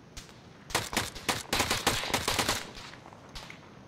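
Rapid bursts of gunfire from guns in the video game Arma crackle in quick irregular volleys, moderately loud and sharp, with a few scattered shots trailing off at the end.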